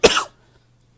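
A single close, harsh cough bursts out and fades within a fraction of a second, leaving near silence with a faint low hum.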